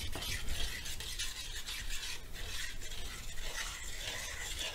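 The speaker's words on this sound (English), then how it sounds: "just keep mixing it, scratching the bottom" Steady, continuous scraping and stirring of thick cream in a pot, a utensil dragging along the bottom without pause, close and fairly loud with no talking.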